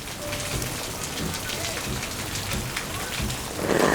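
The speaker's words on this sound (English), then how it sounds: "It's raining so hard." Heavy monsoon rain pours steadily in Mumbai, India, a dense hiss of drops drumming on surfaces, loud and continuous with a brief swell near the end.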